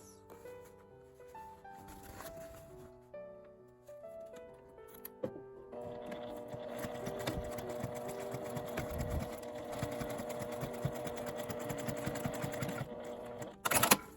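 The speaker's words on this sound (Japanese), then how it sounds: "1センチの縫い代で縫います。" A sewing machine stitches fabric for a zipper pouch with a 1 cm seam allowance, first in short bursts, then running steadily and close, fairly quiet, with no talking.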